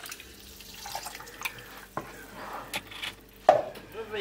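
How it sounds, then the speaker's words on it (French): Water splashes and trickles into a pot of minestrone with melted cheese, in uneven close pours with a few clinks of the pot. "Ensuite, j'y ajoute l'eau."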